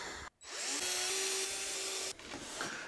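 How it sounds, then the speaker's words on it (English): A power screwdriver used while assembling new furniture whirs in one sustained run with a steady motor whine, close and loud, after a brief pause, then cuts off into quieter rustling. "Not a drill, it's a screwdriver."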